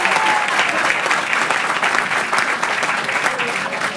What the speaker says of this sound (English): Give Mike Hayes a big round of applause